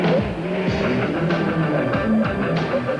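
Off-road race cars in the 1993 Roof of Africa rally roar past continuously, with engine notes rising and falling through gear changes and brief scrabbling bursts from the tyres.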